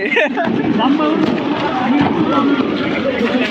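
Loud, continuous crackling bursts of New Year firecrackers going off nearby in Nuremberg, Germany, mixed with crowd noise and shouting voices throughout.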